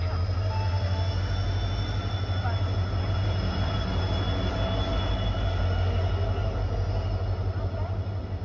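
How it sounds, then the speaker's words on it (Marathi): A train at Madgaon station in Goa, late on the Madgaon to Kumta route, gives a steady, loud rumble with a sustained high wheel squeal over low engine drone, continuous with no break. "तर ही 8 वाजताला ट्रेन आली."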